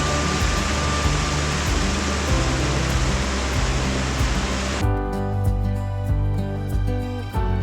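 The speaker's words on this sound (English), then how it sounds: "Big waterfall there." A big waterfall near Hallstatt with fairly low flow sends up a loud, steady broadband rush of falling water. Partway through, the hiss drops away and leaves a quieter, lower roar.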